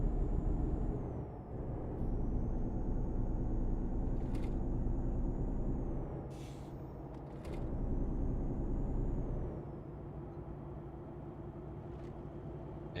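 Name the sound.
truck driving with air brakes in Euro Truck Simulator 2 video game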